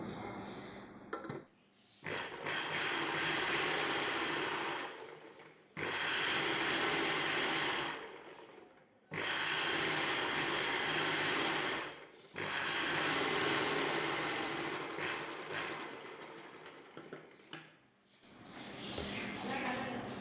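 A sewing machine stitches folded-over cloth at the end of a collar neck on a dress, running in several loud, steady bursts of a few seconds each, separated by brief pauses.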